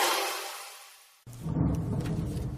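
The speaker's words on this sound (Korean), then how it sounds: "밖에 비 오면서 천둥번개 소리가 지금 녹음실을 진동하고 있습니다" Thunder rumbling with rain outside a radio recording studio: a fading tail of noise, then a sudden loud deep rumble with hiss that rolls on steadily to the end.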